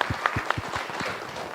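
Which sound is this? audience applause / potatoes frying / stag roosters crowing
audience applause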